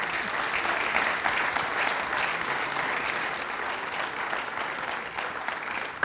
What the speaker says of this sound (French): on peut encore l'applaudir